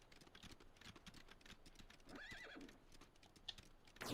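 Horse sounds in the Lego Indiana Jones 2 video game: quiet clip-clop hoof taps in a steady patter, a brief whinny in the middle, and a sharper burst at the very end.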